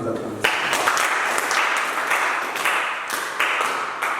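A church congregation bursts into sustained applause during a French-language sermon, dense clapping running steadily throughout with a few louder swells.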